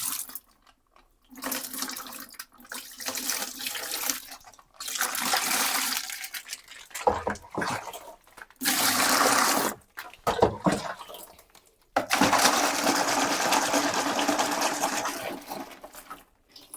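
Water gushing from a tap, probably an outdoor supply, in bursts of rushing flow separated by short pauses, fairly close and moderately loud, with splashing as it is used for washing; no talking.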